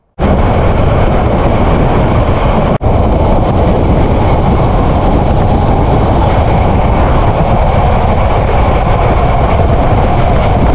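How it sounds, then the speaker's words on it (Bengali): The brand-new Cox's Bazar Express, running from Dhaka toward Cox's Bazar, gives a loud, unbroken roar and rumble of rolling wheels and carriages. A sharp momentary dropout comes a few seconds in, and the noise then carries on steadily. "মাঝখান দিয়ে ট্রেন চলেছে সমুদ্রগামী কক্সবাজারের উদ্দেশ্যে।"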